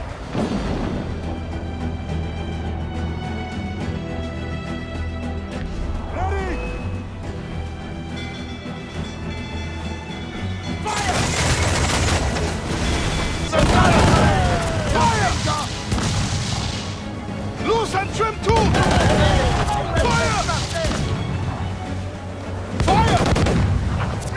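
Ship cannons fire in the Assassin's Creed Freedom Cry game, a loud run of heavy booms and crashing blasts that starts partway through over a rumbling musical score, with voices heard shouting among the barrage.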